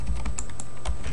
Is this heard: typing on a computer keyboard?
yes